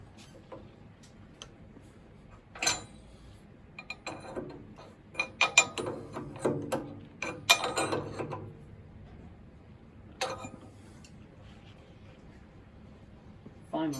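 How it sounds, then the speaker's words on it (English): C spanners and a modified spanner tightening the collet nut on a three-ball-on-rod rolling contact fatigue test adapter: quiet metallic clicks and taps, with a brief flurry of ratcheting ticks in the middle, close and soft. "Using the C spanner and the modified spanner, tighten the collet nut."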